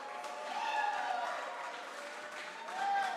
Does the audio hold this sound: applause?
yes